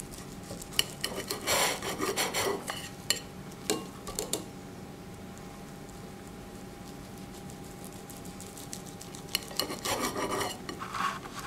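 A wet knife slices through maki sushi rolls in two bursts of close, soft rasping and sawing strokes with a quiet pause between them and a faint steady hum underneath, no voices.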